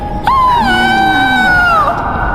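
A woman's high, wavering scream from a Hindi horror cartoon about a haunted house, a single sustained shriek lasting about two seconds with falling pitch at the end, loud and alone.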